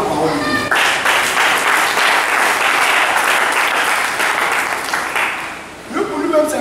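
A church congregation breaks into loud, sustained applause that fills the room for several seconds before fading, and a voice is heard at the edges.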